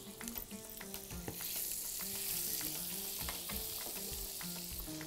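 Minced garlic fries in butter with a soft, even sizzle and a few clinks of a utensil against the pan, steady and quiet with no talking.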